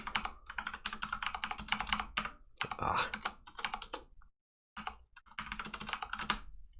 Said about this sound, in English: every morning before I start work, I would manually type in all the numbers